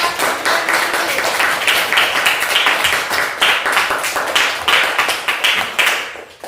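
A small group claps their hands in applause, a dense run of sharp, close slaps that carries on steadily for several seconds before trailing off at the end.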